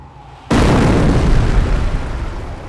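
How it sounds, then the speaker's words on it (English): An incendiary barrage from a mortar half-track in the Company of Heroes game hits with a sudden loud boom after a short quiet lead-in, then settles into sustained crackling, rumbling fire and debris that slowly fades. "Order the mortar half-track to fire an incendiary barrage at the enemy infantry squad."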